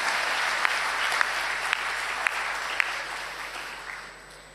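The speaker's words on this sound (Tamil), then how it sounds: "பெண்கள் கைதட்டலாம் தானே?" Audience at a women's achievement gathering, the Coimbatore Nagarathar association's diamond jubilee, claps steadily for about four seconds, a dense, even wash of applause with a few sharper claps and no voices.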